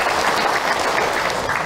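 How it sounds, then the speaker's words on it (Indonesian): Audience applause at an Isra Mi'raj religious talk show, a short burst of steady, dense clapping from a studio crowd. "Tepuk tangan buat Bunda yang bertanya."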